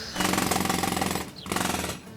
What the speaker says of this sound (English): Drilling?